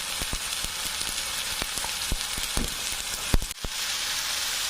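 Tomato and spices, including chili powder and turmeric, sauté in a hot pan for dal, giving a steady loud sizzle with scattered sharp taps and scrapes from stirring.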